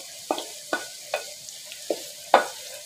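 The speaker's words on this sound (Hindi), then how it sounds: "ये प्याज को हल्का सा फ्राई करना है, ज़्यादा फ्राई नहीं करना।" Chopped onions fry lightly in oil in a kadai, a close, steady sizzle punctuated by about six crisp, evenly spaced knocks and scrapes of a spatula stirring.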